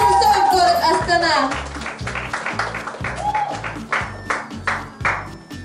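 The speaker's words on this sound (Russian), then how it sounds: "Ваши аплодисменты, Анатолий Сысоев, город Астана" Audience applause for Anatolii Sysoev, an accordion performer from Astana, at the Gold Accordion competition, with rhythmic clapping and bright tones running beneath an announcer's voice throughout.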